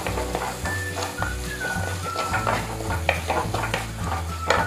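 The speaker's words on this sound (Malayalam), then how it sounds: "നല്ലോണം ഒന്ന് മൂപ്പിച്ചെടുക്കാം." Onions with turmeric powder are stir-fried in a pan for an egg curry, sizzling steadily while a spoon scrapes and clinks against the pan in repeated close strokes.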